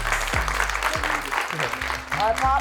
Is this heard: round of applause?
yes